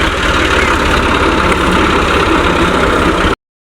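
Tractor-driven wheat threshing machine running on a farm, a loud dense steady engine roar with rapid low pulsing, close and unbroken until it cuts off abruptly, with no talking.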